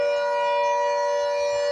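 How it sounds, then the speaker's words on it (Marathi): A civil defense all-clear siren sounds during a mock drill in Titwala, Thane, one steady unwavering tone held loud and alone for the whole stretch. "त्याच्यानंतर दुसरा हा सायरन जो वाजतो हा ऑल क्लिअरचा सायरन असतो."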